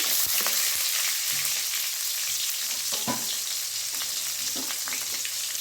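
Onions fry in hot oil with mustard seeds for tempering, a loud, continuous sizzling hiss broken by a few sharp pops and occasional scraping taps.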